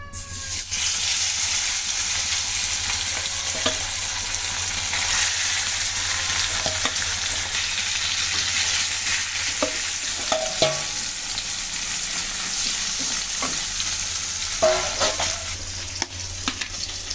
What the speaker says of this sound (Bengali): তেল কিন্তু গরম হয়ে গেছে। এখন মাছগুলো দিয়ে নেবো।